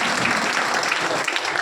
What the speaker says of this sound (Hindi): दोनों लड़कों के लिए जोरदार ताली